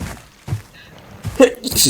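A single short sneeze bursts out near the end, following quieter breathy sounds and murmured speech from the same nearby speaker.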